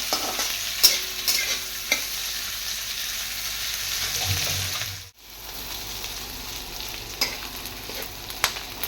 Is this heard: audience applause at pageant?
no